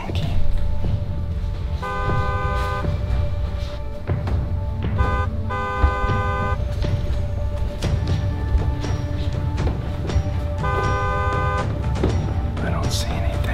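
A car horn honks outdoors on a street, sounding in several separate bursts of different lengths over a constant background of traffic and street noise.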